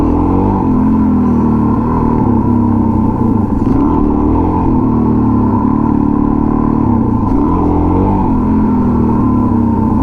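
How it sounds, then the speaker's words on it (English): A motorcycle engine revs and drones loudly and steadily during wheelie practice, with throttle swells rising and falling across the stretch and no voices over it. "I guess I'm not like revving it high enough"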